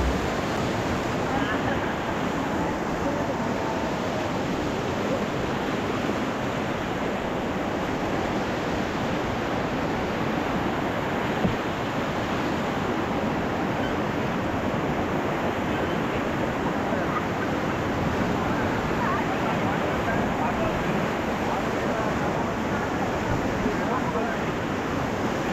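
River water rushes in a continuous broadband roar during rafting in Manali, loud and unbroken throughout with wind-like hiss and no clear voices.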